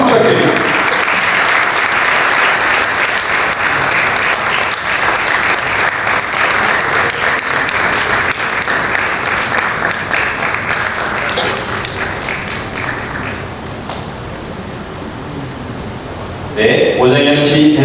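An audience applauds at a 2025 president inauguration ceremony for the CBMC Jeonbuk federation, a Korean business association. The clapping is loud and sustained, dips slightly near the end, then swells again.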